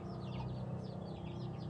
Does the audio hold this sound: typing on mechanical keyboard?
no